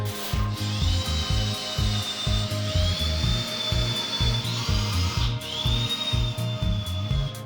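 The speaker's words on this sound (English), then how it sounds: "Pre-drill with a 4mm bit." A power drill with a 4mm bit whines steadily, pre-drilling a wooden workbench worktop, its pitch rising and dipping in several long passes, with rhythmic mechanical thumping underneath throughout.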